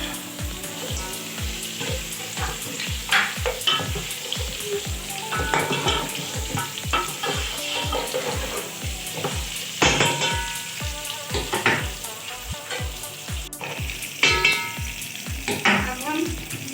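Mutton fries with whole garam masala in a pot, giving a steady loud sizzle that runs throughout, broken by repeated clanks and scrapes of stirring.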